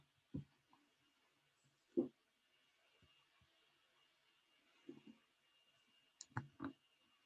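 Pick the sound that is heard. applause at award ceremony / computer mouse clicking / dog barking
computer mouse clicking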